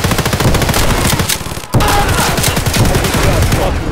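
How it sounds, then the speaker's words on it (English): Escape From Tarkov gunfire, loud rapid automatic bursts crackling close up, a brief pause mid-way then another sustained volley of dense shots. "I put a whole mag into him."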